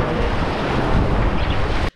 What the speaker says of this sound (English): Super fast whitewater.